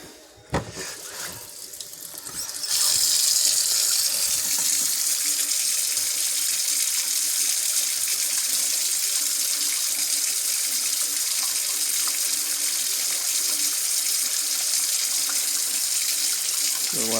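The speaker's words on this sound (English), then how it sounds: "Now we'll try the water pump." Water flows steadily from a tap fed by a household water pump, a constant hissing rush, starting after a brief knock and continuing loud and unbroken to the end.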